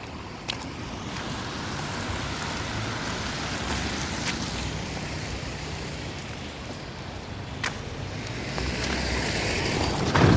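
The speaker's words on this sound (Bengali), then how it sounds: "প্রচণ্ড বৃষ্টি বাহিরে।" Heavy rain falls outdoors along a road, making a steady, moderately quiet hiss that runs throughout, with a few sharp clicks and no talking.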